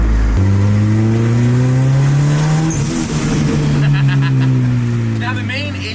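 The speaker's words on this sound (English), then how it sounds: "Sounds like a Honda." A car engine, likened to a Honda and said to have a badly worn transmission mount, revs loudly and climbs in pitch as the car takes off, a steady close roar that gradually fades near the end.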